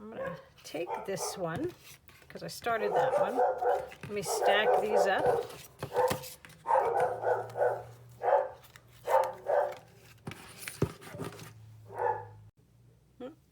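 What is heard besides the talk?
dogs barking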